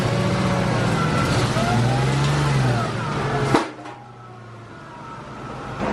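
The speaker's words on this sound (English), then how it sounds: "I'm gonna go ahead and pull this thing up on the ramps to power wash underneath it" A car with a manual clutch revs and strains as it drives up onto ramps, the engine loud and close for about three and a half seconds before a sharp knock and a sudden drop to quieter idle.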